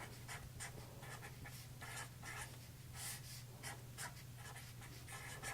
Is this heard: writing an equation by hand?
yes